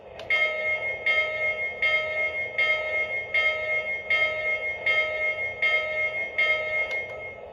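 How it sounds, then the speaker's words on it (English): A Lionel LionChief toy train's electronic bell rings in a steady, even rhythm, about eleven dings, each with a bright ringing tone over a low mechanical hum. "here's the bell, which is activated by pressing the bell button on the LionChief remote"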